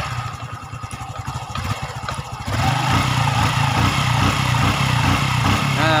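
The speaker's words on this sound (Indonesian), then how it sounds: "Coba dikejut gasnya" Honda Revo Fit motorcycle engine, freshly repaired, idles with a steady thump and then is blipped up to a louder, sustained higher rev that holds steadily, heard up close with no speech.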